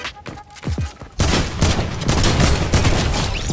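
Gunfire in the video game Fortnite: a dense, loud burst of rapid shots starts after a quieter opening and continues steadily to the end.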